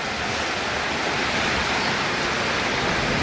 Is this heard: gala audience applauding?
no